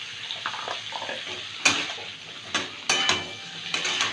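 Boiled raw jackfruit with salt and turmeric frying in a pan: a soft sizzle broken by sharp metallic clinks and scrapes of a spoon against the pan, close up, with no voices.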